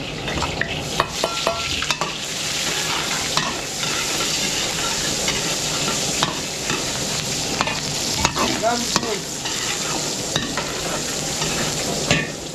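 Onions sautéing in a pan as the base for a large batch of pancit, a steady close sizzle and fry with scraping stir strokes and occasional utensil clinks throughout, no talking.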